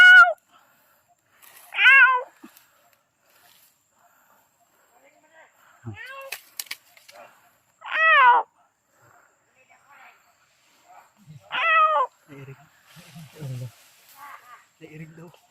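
Several distinct cat meows come in short separate bursts with quiet gaps between them, close and clear, and people talk softly in the background.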